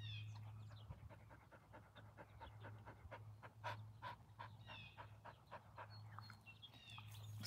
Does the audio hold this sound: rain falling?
no